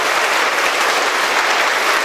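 Loud, steady applause from a church congregation at a Catholic Mass honouring mothers, a dense continuous wash of clapping filling the space with no pauses.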